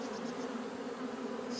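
Honeybees buzz in a dense, steady drone at a beehive entrance, close and continuous with no voices.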